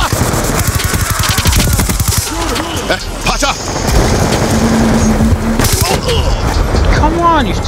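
Rapid pistol shots in Black Ops 2 crack in quick repeated bursts over loud game effects and a background drone, with a voice shouting over the gunfire.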